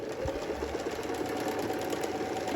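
Steady, continuous drone of a sewing machine stitching quilt pieces for a Flyway mystery quilt, running loud and close without pause and with no voices.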